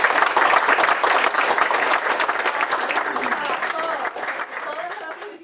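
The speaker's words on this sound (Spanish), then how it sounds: "Gracias, aplausos." An audience at a Salvadoran independence celebration in Stockholm claps loudly and continuously, the applause thinning slightly toward the end while scattered voices rise within it.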